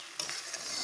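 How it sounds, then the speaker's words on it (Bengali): Garam masala being stirred into a cooking dish in a pan, a short, soft scraping stir over a faint sizzle, close and quiet. "চলো গরম মশলাটাকে আমি ভালো করে মিশিয়ে নিলাম"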